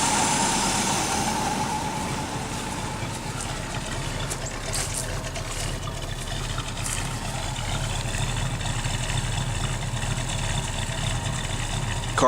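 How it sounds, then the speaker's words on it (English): A 1978 Chevrolet Malibu engine idles steadily with a low, continuous rumble and mechanical hum, its carburetor dirty and out of adjustment, running alone without voices. "Seems to be a good engine."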